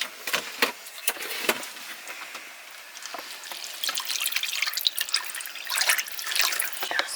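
Water is poured into rice for pilaf, probably in a caravan kitchen. It splashes and trickles close by, with uneven drips and bursts that grow busier toward the end.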